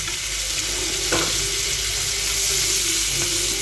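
An egg fries in a pan beside other cooking, producing a loud, steady close-up sizzle for nearly four seconds with a couple of brief clicks and no speech.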